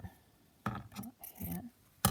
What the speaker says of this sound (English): Let me just cut that